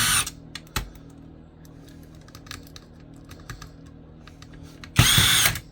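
Screws being backed out of an old PC that belonged to a smoker, with a short loud whirring burst at the start and another near the end, and scattered sharp clicks and rattles of metal parts in between.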